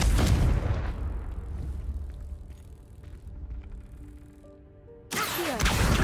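A fiery Confringo blast in Hogwarts Legacy opens with a loud booming burst, decays into a quieter crackling and humming tail, then a second loud impact bursts in near the end.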